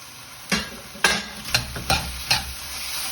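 Chicken and spring onions being stir-fried in salty hoisin sauce for chicken with cashew nuts, with five loud, evenly spaced scraping stirs of the pan over a steady sizzle.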